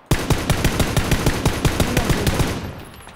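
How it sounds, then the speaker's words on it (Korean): Rapid automatic gunfire in the battle royale game PUBG: Battlegrounds, a loud, evenly spaced burst of roughly fifteen shots that cuts off and trails into a brief echo. "왼쪽에 총소리 들리는 거 봐."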